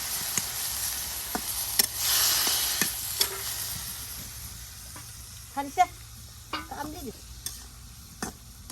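Fried eggs with chopped potato and mixed spices sizzle in a pan in a village kitchen, a steady hiss broken by sharp stirring scrapes and clinks.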